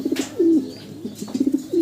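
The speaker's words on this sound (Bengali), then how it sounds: "নর ডাকতেছে আর মাদি আছে পাশে" A male black lace modern bantam pigeon coos beside a female, giving several short, close, throaty coos and rolling calls in quick succession.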